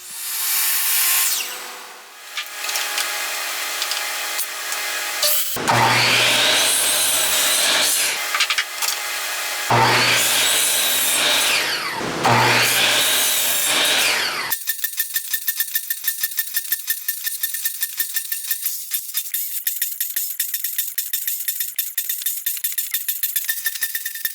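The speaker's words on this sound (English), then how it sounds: "It just needs the ends trimmed square, so we're gonna do that now." A power saw trims the ends of planed pallet wood boards, in several loud, close bursts of cutting separated by short pauses, then a long steady whine with rapid ticking that runs to the end.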